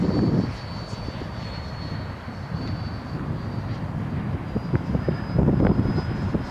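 A Freewing RC airplane climbs away after a rough takeoff from grass, its electric motor giving a steady, fairly loud whine that holds and swells slightly throughout, with no talk.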